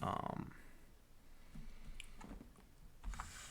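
A few computer mouse clicks while editing in Kdenlive, sharp and close, with light talk mixed in.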